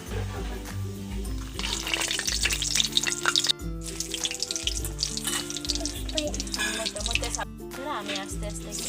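Panch phoron spices fry in mustard oil in a wok, a close crackling sizzle with bursts of spitting and stirring knocks, briefly cutting out twice, with no one speaking.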